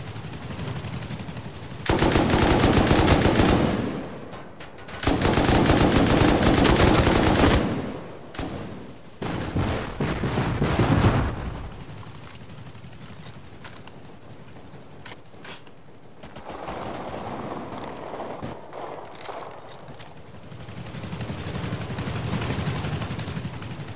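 Loud bursts of rapid automatic gunfire in a video game aimed at an attacking helicopter, with long sustained volleys, short pauses and mechanical clatter between them.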